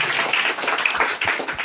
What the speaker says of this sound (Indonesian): Oke, kita berikan aplaus untuk Maria dan untuk Susan